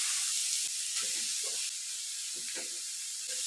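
Grated carrots sizzling in melted ghee in a kadhai, a steady soft hiss with faint scraping and stirring knocks scattered through it, close and moderately quiet.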